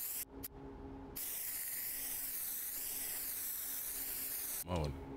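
Spray paint can hissing steadily in the graffiti game Bombing 2, a sustained close airy spray running several seconds, broken by short gaps at the start and cut off near the end.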